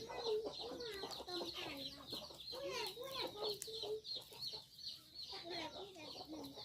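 Chickens cluck and squawk repeatedly at close range in a rural farmyard, with busy overlapping calls filling the whole stretch while people talk nearby.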